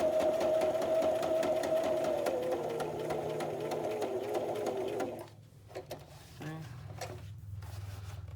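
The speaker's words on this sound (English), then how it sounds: "And we're really just stitching all the way around." A sewing machine runs a fast, steady whir while zigzag-stitching fabric around a file folder journal, then stops about two thirds of the way through, leaving faint handling clicks and a low hum.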